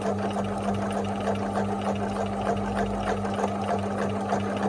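A sewing machine runs continuously for zigzag free-motion embroidery, giving a close, steady whirring hum with rapid rhythmic needle chatter and no pauses.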